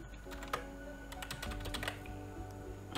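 Code being typed on a computer keyboard while programming accelerometer readings for a Wio Terminal: a steady run of quick, close key clicks with no talking.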